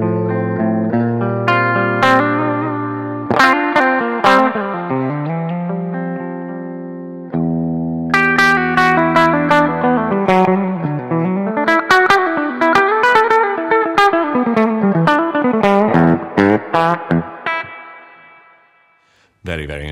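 Clean electric guitar tone with humbucker pickups through a Thomas Blug AMP1 Mercury Edition amp, playing bright ringing chords and arpeggiated notes that sustain and decay, with brief pauses between phrases.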